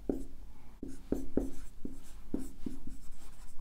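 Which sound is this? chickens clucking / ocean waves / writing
writing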